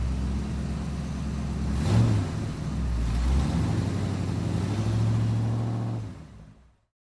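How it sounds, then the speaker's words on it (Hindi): A Maruti 800 car engine rumbles low and steady, with a slight swell partway through, then cuts off abruptly near the end; no voices. "गाड़ी के इंजन से अचानक हल्की गड़गड़ाहट शुरू हो जाती है"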